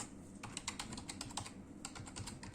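Someone types Arduino code on a computer keyboard in quick, fairly soft keystrokes that come in short bursts, close up and with no one talking.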